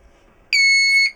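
A Simploo Mini composting toilet installed in a campervan sounds its full-bottle alarm: a single loud, piercing electronic beep holding steady for about half a second after near silence.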